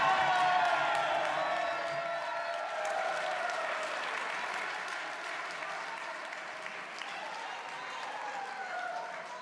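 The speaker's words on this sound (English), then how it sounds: "Start clapping again." Legislators and guests in a state capitol chamber break into loud applause with whoops and cheers at a governor's state address, a big roomy roar that slowly eases off.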